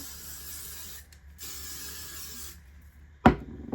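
Hairspray is misted onto hair styled with a Dyson Airwrap in a few short, close hissing spray bursts separated by brief pauses, followed by a sharp knock near the end.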